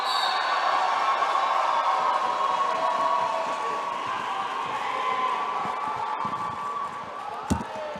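A large crowd at a junior track event between Canada and the USA roars and cheers steadily, a dense sustained wash of shouting voices, with one sharp clap or thud near the end.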